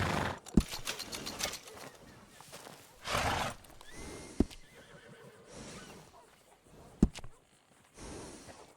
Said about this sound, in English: That's a fine steed.